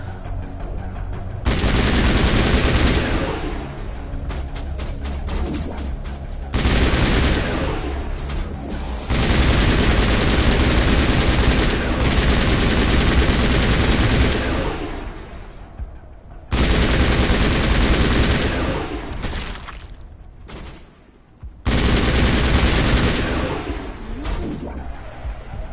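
Heavy automatic gunfire from the Mass Effect video game comes in loud, dense bursts separated by brief pauses, with booming impacts in the mix.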